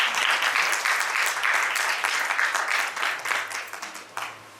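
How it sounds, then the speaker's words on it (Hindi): An audience at an award ceremony for women leaders breaks into loud, sustained applause that gradually thins out into scattered claps toward the end. "आपके लिए मैं चाहती हूँ कि बहुत जोरदार तालियों के साथ हम स्वयं को"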